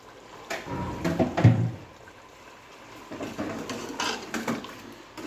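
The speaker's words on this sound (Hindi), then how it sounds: "यहाँ पे आलू मैंने तकरीबन ½ kg आलू ले लिए थे, ये मैं इसके अंदर डाल देता हूँ जो पानी में मैंने भिगो के रखे थे" Soaked potatoes, about half a kilo, tumble into a cooking pot of aloo gosht meat curry, giving a cluster of wet thuds and clatter followed by softer scattered knocks and splashes, close by.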